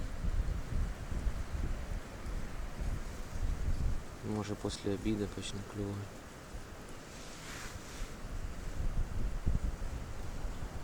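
Steady strong wind rumbles and buffets the microphone throughout on a winter ice-fishing outing, with someone talking briefly in the middle.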